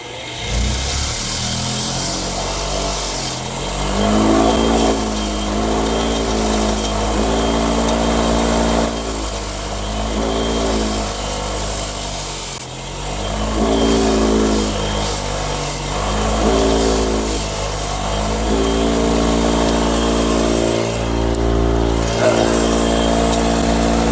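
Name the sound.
wire wheel grinding a DIY copper cable lug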